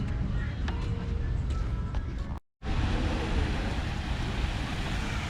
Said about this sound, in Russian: Волны здоровая очень.